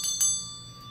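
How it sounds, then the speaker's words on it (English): A small hand bell is rung at the opening of an evening session, giving two quick bright strikes near the start whose clear ringing tone then fades away, alone with no talk. "So I always ring my bell"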